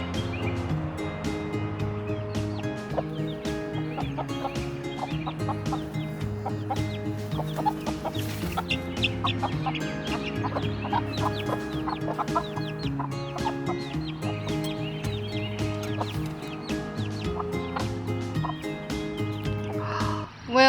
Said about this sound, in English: as you saw, the chickens are doing great.